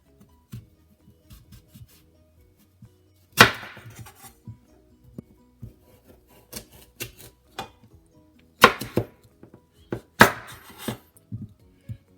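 A knife chops sweet potatoes on a cutting board in sharp, irregular knocks, with a few louder strikes standing out among softer taps, close and isolated without talk.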